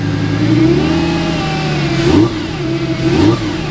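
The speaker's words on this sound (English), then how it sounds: "I'm just gonna go ahead and rev it a little." A Lamborghini engine idles with a deep rumble, then two sharp rev blips rise and fall close by, each followed by a settling idle, with no one speaking.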